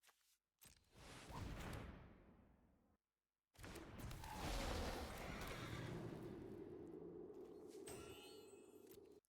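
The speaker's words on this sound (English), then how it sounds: "Another horse." A horse neighs in a digital card game, a loud whinny with breathy rushing bursts, separated by a short silence and ending with a brief crackle.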